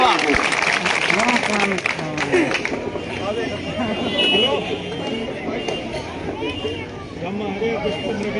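A crowd at an outdoor village election rally claps loudly and continuously, mixed with voices and chanting throughout.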